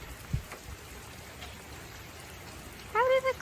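Rain patters with a steady hiss on a surface, faint and continuous, with a brief tonal sound near the end.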